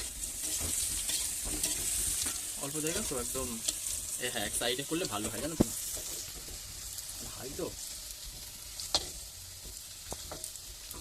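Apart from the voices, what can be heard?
potatoes frying with spices in a pan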